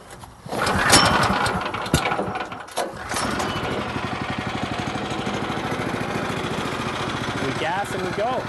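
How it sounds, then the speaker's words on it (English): The small engine of a Woodland Mills HM126 portable sawmill is pulled to life with a couple of rough cranks, then settles into a steady close putter, with a voice speaking briefly near the end. "I start the engine."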